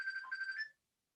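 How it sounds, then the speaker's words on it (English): A phone rings in the background, one short electronic warble lasting under a second and then cutting off into silence, faint and distant. "but you hear the phone, y'all, in the back."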